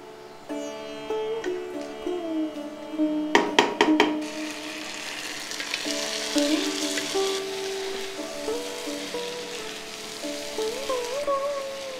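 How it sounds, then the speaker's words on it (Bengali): Marinated mutton tipped onto browned onions fries in a pan with a steady sizzle, and a brief burst of clatter comes partway through. Soft background music plays alongside. "পেঁয়াজ লালচে হলে তখন ঢেলে দিন আগে থেকে মেখে রাখা মাংস"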